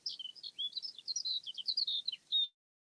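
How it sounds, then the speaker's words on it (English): Birds sing outdoors in a quick run of high, bright chirps and trills, faint and somewhat distant, lasting a couple of seconds before cutting off to silence. "can you hear the birds?"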